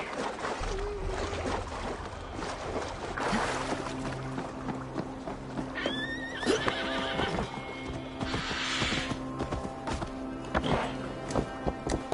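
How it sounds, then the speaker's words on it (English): A horse in Assassin's Creed Valhalla whinnies loudly while hooves clop steadily, with other neighs and rustling movement around it and no talking. "call to you, my noble steed skin faxi."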